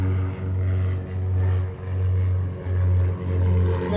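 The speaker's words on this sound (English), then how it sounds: "because these planes is that close to me." Propeller aircraft flying low and close overhead, a loud steady droning roar with pulsing swells that dip and return about every second, filling the whole clip with no talk.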